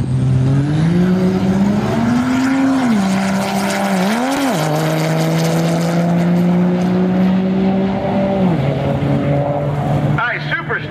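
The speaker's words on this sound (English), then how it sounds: "super strong pass right there for the truck" A diesel race truck's loud engine, a 1000-horsepower Cummins, roars close by, its pitch dipping and climbing with a throttle blip before it settles into a steady drone.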